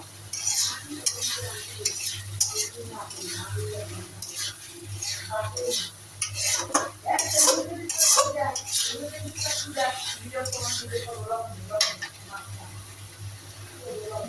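Shing fish sautéed in a pan, with busy stirring and clinking of a utensil against the metal over a low sizzle, continuous and close, with occasional faint voice.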